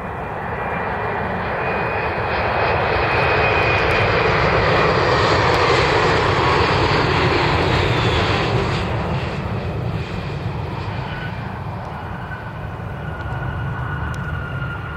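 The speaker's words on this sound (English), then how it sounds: "E175 inbound from Detroit." A Delta Air Lines Embraer E175 jet arriving at Cleveland produces a loud, steady engine roar with a rushing whine that swells and then eases slowly, heard continuously without talking.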